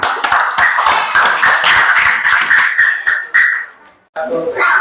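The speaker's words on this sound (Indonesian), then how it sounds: "sekali lagi beri tepuk tangan" A crowd claps steadily for a few seconds, the applause fading out before a voice begins speaking.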